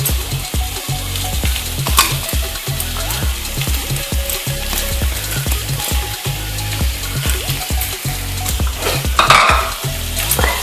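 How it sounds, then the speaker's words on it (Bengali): Crumbled paneer for paneer bhurji is stirred in a frying pan: loud, close sizzling under a rapid, regular rhythm of spatula scrapes and taps against the pan, with no speech. "পনিরটা আমি মিশিয়ে দিলাম।"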